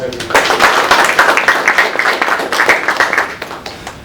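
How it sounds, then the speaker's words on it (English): Applause at a business networking evening, a smaller group clapping in uneven bursts close by, with a speaker's voice heard over the start of the clapping. "let's give them a big round of applause"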